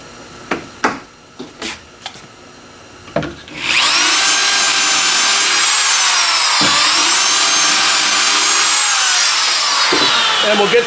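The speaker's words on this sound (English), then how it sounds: "We just clamp it down and we drill our pocket hole" Several sharp knocks and clamp clicks come first, then a pocket-hole drill bores into a walnut board with a loud, steady high whine that continues to the end, close up.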